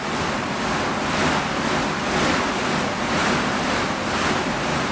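A Rogue Echo Bike, an Airdyne-style exercise bike with an air-resistance fan, gives off a loud, steady rush of whooshing air with gentle rhythmic surges. No voices are heard over it.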